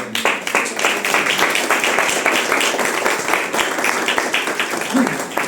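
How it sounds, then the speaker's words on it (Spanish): Applause from an audience at a talk or lecture, a steady crowd of hands clapping for a speaker, dense and sustained for several seconds at moderate loudness. "Un aplauso, compañero."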